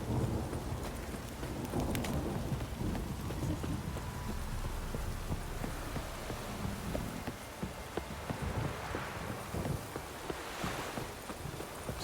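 A heavy downpour in The Witcher 3 hisses steadily across the whole stretch, with dense rain on surfaces, faint horse hoof clops and distant rumbling underneath.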